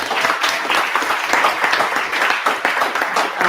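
Audience at a Python meetup panel applauding steadily, a dense, fairly loud wash of many hands clapping throughout with no speech over it.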